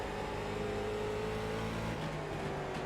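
A late model stock car engine in the iRacing NASCAR Late Model Series at Lanier drones steadily and loudly, the pitch shifting as the throttle comes back on, with no talk.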